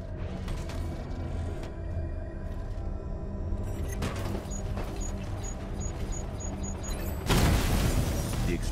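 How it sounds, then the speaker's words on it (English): Mechanical clanking and creaking rumble along during the Cloudburst tank boss fight in Batman: Arkham Knight, then a loud, sudden explosion bursts out near the end. "Explosion disabled the main cannon."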